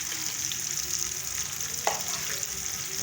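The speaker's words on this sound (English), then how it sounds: "I don't want to cook my onions for long." Onions softening briefly in a pan for carrot soup, giving a steady, moderately quiet frying hiss, with a single soft scrape of stirring partway through.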